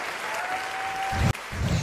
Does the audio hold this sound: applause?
yes